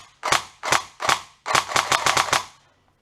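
A GSG G14 airsoft electric gun fires on semi-auto: three spaced shots, then a quicker burst of about seven close snapping shots, loud and near with no talk.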